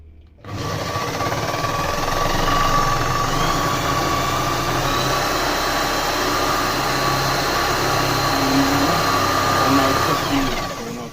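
A car generator wired up without its relay regulator is being spun by hand, giving a steady whirring, humming drone with faint tonal whine throughout, close and continuous after a brief start.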